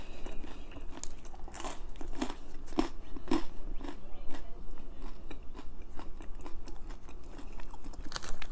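Someone chews a crunchy Margherita pizza, close and continuous, with repeated crisp bites and crackles running through the whole stretch.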